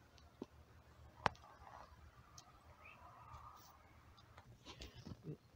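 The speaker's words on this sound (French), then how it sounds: "Les oiseaux chantent." Faint bird calls drift through a quiet mushroom-hunting forest, a few scattered chirps and calls over soft background hiss, distant and low in level.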